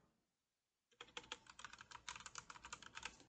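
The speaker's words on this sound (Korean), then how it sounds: "엔터 쳐주시면 되고" Quick typing on a computer keyboard while entering Excel pivot table fields, with a burst of close, crisp key clicks after a short silence, fairly even in rhythm.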